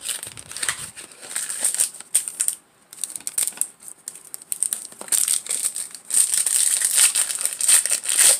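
A Topps Now baseball card envelope being torn and crinkled open by hand, with close, continuous paper crumpling and ripping sounds and no talk.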